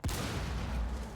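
A single heavy gunshot in Rainbow Six Siege, a sharp low boom at the start followed by a brief rumbling decay.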